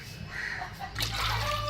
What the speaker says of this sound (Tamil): அந்த தண்ணியை இதுக்குள்ள விடுறேன்.